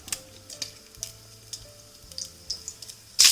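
Whole spices, including whole black peppercorns, and two dried red chillies fry in hot oil, a steady soft sizzle with small crackling pops throughout, closing on a sharper, louder burst of sizzle as the pan flares at the end.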